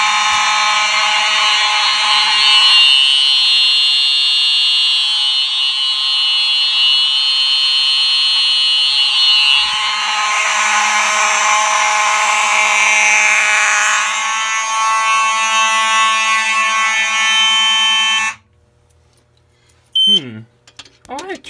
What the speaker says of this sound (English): We're going to go ahead and pull the Simplex 4501-20, and here we go.